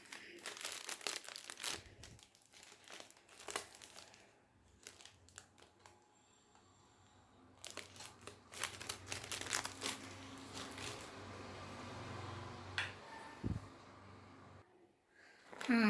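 Crinkling plastic bags and wrappers as weight loss products are packed for courier, close by with steady rustling and occasional sharper crunches throughout.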